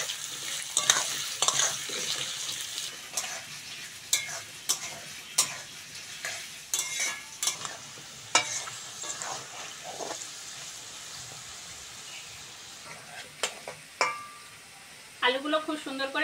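Cut potatoes and onions sizzle and fry in a pan for a Bengali vegetable curry, with steady crackling under repeated sharp scrapes and clacks of a spatula stirring, close and continuous throughout.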